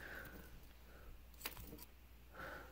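A bunch of metal keys jangles near the microphone while a challenge lock is worked, with a sharp clinking burst in the middle and more rattling at the end over a quiet background.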